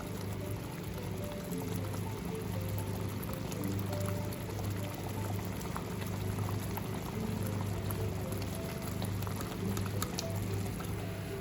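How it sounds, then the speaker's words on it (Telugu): Rice boiling in a pot on a home stove while egg curry is cooked alongside, heard as a steady, continuous bubbling and simmering hiss at moderate level throughout, with no talk over it. "రైస్ కూడా ఇటు పక్క అయితే ఉడుకుతుంది"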